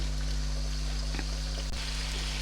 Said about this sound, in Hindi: ये अब मैं ज़रा इसे तेज़ आंच पे मैं इसे फ्राई कर लूँ